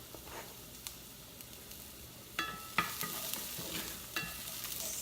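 Garlic sizzling in a pan for shrimp pasta, a soft continuous frying crackle heard close and quiet, with a few light scrapes and taps of stirring.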